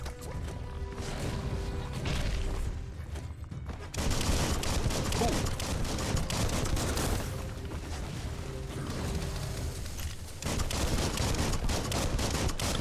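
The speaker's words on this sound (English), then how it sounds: "Alright, just keep shooting him in his back." Rapid bursts of gunfire while shooting an enemy in the video game Biomutant, loud and continuous, with crashing impacts and mechanical clatter mixed into a dense game soundtrack.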